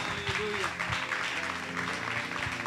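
A church congregation claps together in praise, a dense, steady patter of many hands filling the room, with a voice speaking over the applause.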